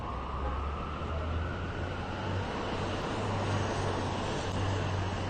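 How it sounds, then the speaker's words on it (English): Emergency vehicle sirens from fire trucks, ambulances and police cars echo off skyscrapers in lower Manhattan, New York, heard as a distant, steady wash blended into the constant city traffic roar, with no talking. "fire trucks, ambulance, occasionally a police car, but that's just the sounds of the vehicles reverberating off the sides of"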